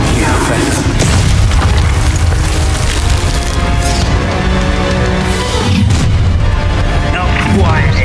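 A Confringo blasting spell explodes in the video game Hogwarts Legacy, with loud booms and splintering crashes amid continuous combat noise, and a voice speaking over the action.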